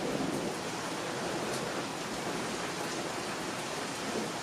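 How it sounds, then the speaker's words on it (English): Heavy rain from a thunderstorm pours down outside in a dense, steady hiss that holds at the same level throughout, with no voices. "That's a crazy storm going on out there."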